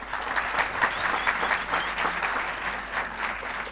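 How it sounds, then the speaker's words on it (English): Sustained applause from a literature festival audience welcoming a guest author on stage, a steady wash of many hands clapping at moderate loudness with no voices on top. "he deserves a massive, massive applause"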